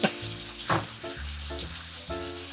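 Pesto penne pasta sizzles steadily in a pan while being stirred, close frying hiss with a few louder scraping stir strokes, no voices.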